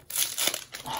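Sun and Moon Crimson Invasion Pokémon booster pack ripped open close up, a quick burst of crinkly foil tearing and crumpling lasting about a second.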